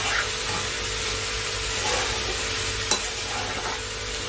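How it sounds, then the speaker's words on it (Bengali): Spices frying in a pan for a Bengali shing fish curry with green banana, a steady soft sizzle with occasional stirring scrapes and one sharp clack, no talk. "এবারে আমি মশলাটাকে ভালো করে ভাজা করে নিচ্ছি।"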